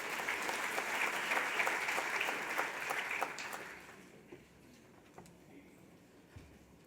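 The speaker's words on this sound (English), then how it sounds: "A round of applause for Katrina," Conference audience applauds as a speaker comes to the stage at an insurance industry event, a full burst of clapping for about four seconds that thins into a few scattered claps and room noise.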